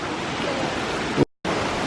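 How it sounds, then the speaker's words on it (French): An underground river flows through a cave, a dense steady rushing roar close by, broken by a brief silent gap near the end, with no voices. "on est donc face à la rivière qui sépare les deux parties"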